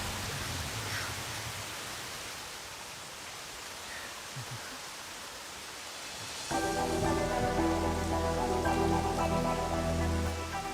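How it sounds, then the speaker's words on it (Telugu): Rain falls as a steady hiss that stays soft for the first part, then swells and gains a fuller, louder texture as heavier noise joins in; no one speaks. "వర్షం చాలా చల్లగా ఉంది కదా."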